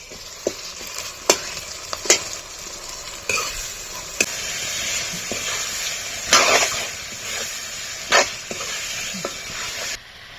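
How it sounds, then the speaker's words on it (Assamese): Broiler chicken meat fries with spice paste and dried chillies in a kadai, a constant sizzle broken by sharp, intermittent clanks and scrapes of a spatula stirring, heard close with no speech. "এয়া মাংসখিনি কেৰাহীত দিছোঁ আৰু অকণ সময় ভাজি ল'ম।"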